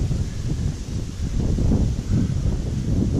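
Steady wind blowing across water on the Appalachian Trail between Bennington, Vermont and Williamstown, Massachusetts, a low buffeting rumble of gusts hitting the microphone, rising and falling in waves, with no talking.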